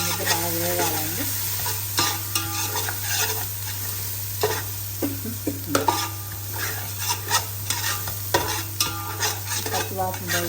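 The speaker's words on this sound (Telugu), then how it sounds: "బాగా ఈ అల్లం వెల్లిపాయ ముద్ద బాగా వేగాలండి." Ginger garlic paste frying in oil for mutton biryani, a bright continuous sizzle broken by repeated scraping and clinking strokes of a spoon against the pan, close and fairly loud under a low steady hum.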